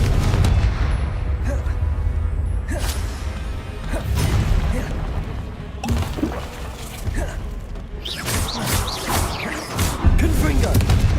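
Repeated Confringo blasting-spell explosions in the Hogwarts Legacy video game, a dense series of booming, crashing bursts close up and loud, layered with game effects and music throughout.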